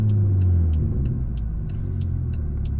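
An 800hp BMW 340i drives along a road, heard as a loud, steady low rumble of engine and tyre noise with no one speaking.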